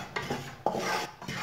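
Flour roasting dry in a pan while a spoon keeps stirring it, giving soft close rasping scrapes in a few short strokes, faint and without talk.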